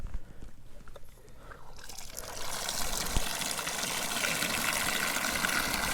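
Water from a freeze-proof outdoor spigot on a house pours into a 5-gallon pail, starting as a quieter splash and then rising into a steady, louder rushing fill that continues to the end.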